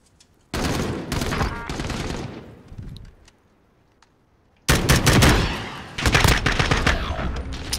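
Automatic gunfire in Call of Duty Modern Warfare 2019, loud and close: a sustained rapid burst that fades out, a pause of near silence, then more dense rapid firing to the end.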